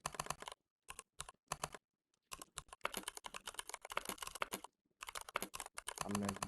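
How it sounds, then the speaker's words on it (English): Rapid bursts of typing on a computer keyboard, clattering key presses in uneven clusters separated by short pauses, close and clear with no talking. "I'm a very bad typist. Like my typing is very all this."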